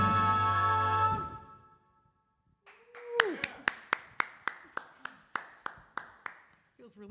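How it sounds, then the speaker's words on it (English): Audience clapping for a university jazz ensemble after the last note of the band fades, then a dozen or so crisp, evenly spaced claps in a slow rhythm, fairly close and sparse. "Feels really strange to be clapping for my own ensemble"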